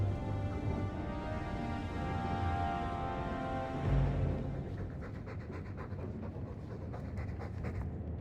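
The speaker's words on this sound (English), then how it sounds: "All that noisy dog breath, day in, day out." A dog panting heavily and steadily in the game Dragon Age 2, rhythmic breathy huffs close by, continuing without pause under a low ambient bed, with a brief thump near the middle.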